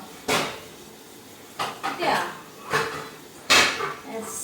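A glass lid is pulled out from among stacked kitchen pots, giving several sharp clinks and clatters spaced across a few seconds, close and fairly loud.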